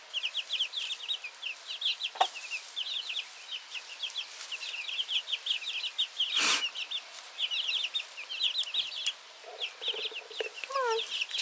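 A flock of farm chickens clucks continuously at moderate distance in a barnyard, with rapid overlapping chirpy calls and a few louder squawks and knocks along the way.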